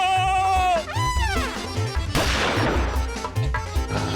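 A sharp gunshot cracks loudly midway, following rising and falling musical tones, with a few more impacts afterward.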